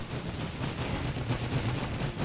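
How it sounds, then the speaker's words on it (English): Rifle grenadiers open fire in the World War I strategy game The Great War, heard as a faint, distant crackle of gunfire over a steady low rumble of battle noise. "Oh, the rifle grenadiers are opening fire."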